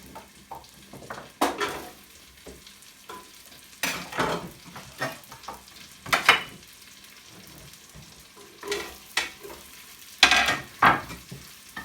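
Vegetables stirred in a soup pot in a pressure cooker with crumbled stock cubes, repeated close scraping and clinking strokes in uneven bursts over a quiet sizzle, no speech.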